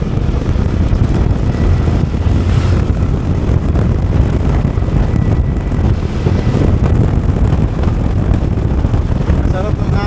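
Steady wind gusting outdoors along a rural road construction route in Sitio Brown, heard as a continuous broadband rush buffeting the microphone throughout, fairly loud, with no voice on top.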